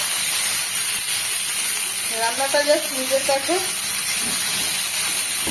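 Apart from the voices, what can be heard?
eggplant frying in oil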